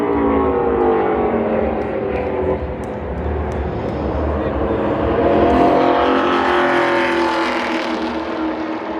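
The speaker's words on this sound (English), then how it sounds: "as Almirola creeping down the back straightaway here as the last car to qualify." A NASCAR Xfinity race car runs a qualifying lap at Phoenix Raceway, its engine a loud, continuous roar throughout that swells and shifts pitch as the car travels down the back straightaway.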